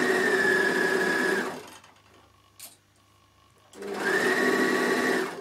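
A Bernina L450 overlocker serger stitches fabric in two bursts of fast, steady whirring separated by a quiet pause with a small mechanical click, close and clear.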